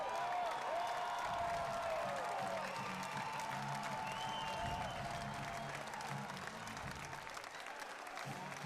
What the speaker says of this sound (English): the crowd here rising to their feet as they should